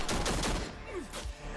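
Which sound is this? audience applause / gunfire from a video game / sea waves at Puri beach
gunfire from a video game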